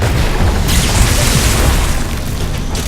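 Rock spell launched in the Magicka: Wizard Wars video game, a loud booming impact burst with crashing debris that swells then trails off, no speech over it.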